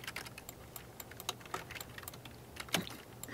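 Keys on a computer keyboard are tapped in an irregular run of quick, close clicks, some louder strikes standing out over a faint background hum, with no talk.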